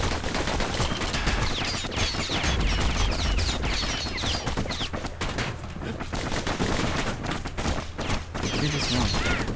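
Rapid bursts of gunfire from the Bastion video game crackle continuously and loudly, dense overlapping shots with booms beneath, alongside a voice talking over the action.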